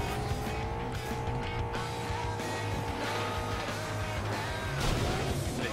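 Racing cars in the FlatOut 2 video game roar steadily with droning engine tones and tire squeal, a dense continuous mix of game engine noise throughout with no talk.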